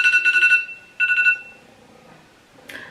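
A kitchen-style timer alarm goes off in two bursts of rapid, high electronic beeping, the first longer and the second shorter, followed by a quiet pause and a brief rustling knock near the end.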